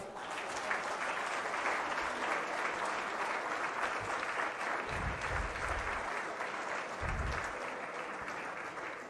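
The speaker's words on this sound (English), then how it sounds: "Let's celebrate this major milestone with another big round of applause." Audience applause at a financing agreement signing ceremony for a hydropower project in Nepal, with sustained even clapping from a moderate-sized crowd and a few low thuds midway.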